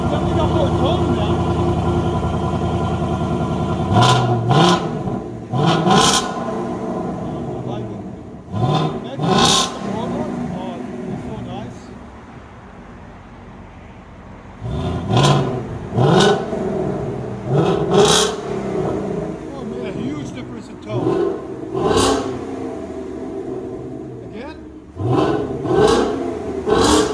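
A 2024 Ford Mustang GT S650 with its 5.0L V8 and aftermarket exhaust revs repeatedly, several loud, close throttle blips rising and falling in bursts over a steady idle, with voices talking between and over the revs.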